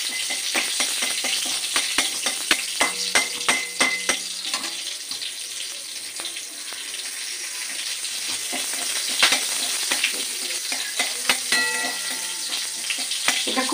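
Spiced ground mustard paste, made with black mustard, poppy seeds, sesame, melon seeds, green and dried chillies, ginger and fennel, sizzles steadily in a pan for bitter gourd shukto, with frequent sharp clinks and scrapes of a spatula throughout.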